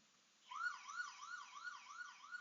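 An ESS dual emergency siren with a custom horn sounds a fast, repeating yelp layered with a howler tone, the pitch sweeping up and down in quick regular cycles, clear and alone after a short quiet start.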